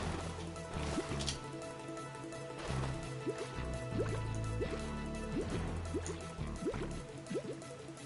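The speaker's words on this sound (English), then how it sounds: "Once you hit the water you hear a sploosh, turn right until you hear that big splash." Water splashes and liquid plops from the Shantae video game, several soft drips and sploshes in a row over a steady layered game soundtrack.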